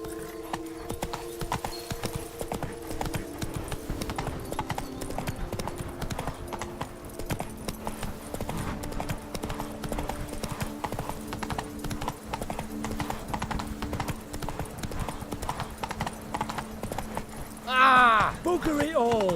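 Hooves of the horse Roach clip-clop steadily at a trot through the whole stretch in The Witcher 3: Wild Hunt, Blood and Wine, under background music and voices, with a brief whinny-like sound near the end.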